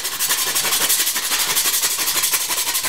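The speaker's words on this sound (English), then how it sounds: "got a microplane grater here and some extra strong mints" Extra strong mints rasp against a microplane grater in fast, steady back-and-forth strokes, a close, loud, continuous scratchy grinding with a regular rhythm and no talking.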